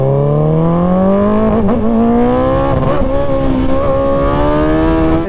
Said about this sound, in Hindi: अभी आप लोगों को फुल थ्रॉटल देके बाइक भगा के दिखाऊंगा